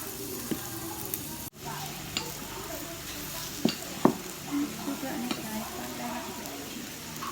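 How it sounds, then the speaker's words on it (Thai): Thick, dry sukiyaki sizzles and is stirred in a pan, a low steady fry broken by scattered scraping clicks and utensil taps, fairly quiet, with a voice speaking briefly. "เจียวสุกี้แบบเข้มข้นแห้งเลย"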